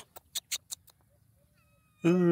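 A skinny stray cat gives a clear, close meow at the end, after a few short soft sounds and a thin faint whine in an otherwise quiet outdoor spot; someone talks nearby.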